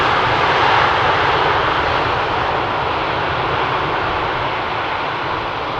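An Aer Lingus airliner from Dublin passes by near Amsterdam Schiphol Airport, its engine roar loud and steady, broad and rushing throughout and easing slightly toward the end.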